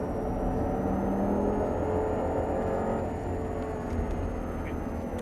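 An Audi R8 engine on a racetrack makes a loud, continuous roar that holds fairly steady throughout, with a faint high whine riding above it and no voices.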